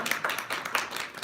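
Clapping from a church audience, a short burst of irregular hand claps at moderate distance, fairly faint, with no talk over it.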